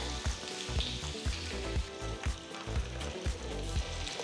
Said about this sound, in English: We're going to first fry the potatoes, so you need a little bit of oil for that.